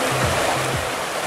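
Water streaming steadily around a hotel pool area in the Peloponnese, a continuous broadband rush with faint low tonal hums drifting in and out, heard alone over a short stretch.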